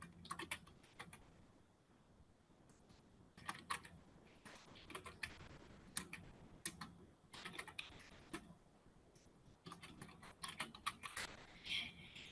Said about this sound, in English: I'm going to type out my to category